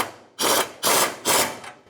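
Three rapid ratcheting bursts from a hand ratchet tightening 12 mm bolts on the fuel tank of a 1992-1996 Ford F-150, each a close, loud clicking run separated by short pauses.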